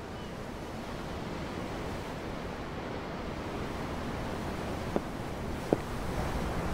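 Steady ocean surf rolls and washes continuously from a ship's deck, a broad even roar with wind across the microphone and two brief faint knocks near the end.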